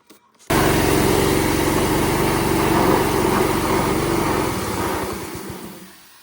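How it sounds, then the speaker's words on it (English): A gas pressure washer engine starts abruptly and runs with a loud, rough, buzzing drone, then sputters and winds down unevenly near the end. "Pressure washer isn't too happy today."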